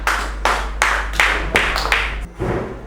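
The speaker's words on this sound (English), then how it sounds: "Please, can you clap for me?" About seven sharp hand claps come at a steady, moderate pace in a classroom at a special school in Ghana. The claps are close and clear over a low electrical hum, with no talking.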